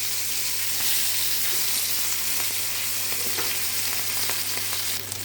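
Hilsa fish pieces fry lightly in hot oil in a pan, producing a dense, steady hiss and crackle that holds loud and close throughout, with faint metallic touches and no talking.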